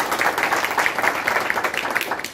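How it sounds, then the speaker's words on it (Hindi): A crowd applauds at an outdoor election campaign rally for a temple and unity, steady dense clapping heard from a middle distance without pauses. "मैं इसके लिए सबसे कहूँगा एक बार इस मंदिर और आपकी एकता के लिए ताली बजाएं।"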